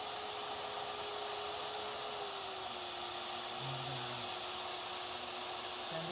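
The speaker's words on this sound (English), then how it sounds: "I'm going to turn on my spindle, send my Z down to Z0, and then run the program." A CNC router spindle spins up and runs while milling a guitar fretboard, a steady high whine whose pitch drops slightly partway through, over a constant airy hiss, close and unaccompanied by speech.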